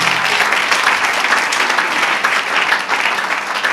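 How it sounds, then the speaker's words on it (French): A church congregation applauds during a Sunday service, dense continuous clapping filling the room at close range, steady and loud throughout with no pause. "Acclamons pour Maman Clarisse, que Dieu te bénisse."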